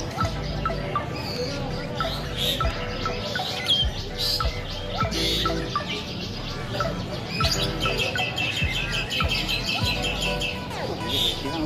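Asian pied starlings sing at a crowded outdoor songbird contest, with rapid whistles, chirps and harsh chattering phrases repeating throughout, loud and close over a busy background of other birds and distant crowd noise.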